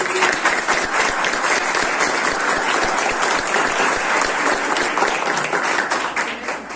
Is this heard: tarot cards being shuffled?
no